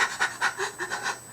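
A human voice imitates a Saint Bernard panting, giving six quick rhythmic breathy pants in an even series, close and moderately loud with no other sound.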